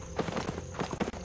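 Horse hooves in the online game Albion Online, a quick, even clip-clop of galloping steps, fairly faint and close with a steady rhythm.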